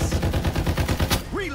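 Rapid automatic gunfire from the video game Farlight 84, a loud, steady stream of close shots lasting about a second, ending as a voice briefly speaks over it.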